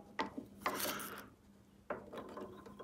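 A fitting on a Sherwood 13-inch helical spiral head thicknesser is slowly tightened by hand, giving a few short ratcheting metallic clicks and scrapes in two bursts, close and fairly quiet.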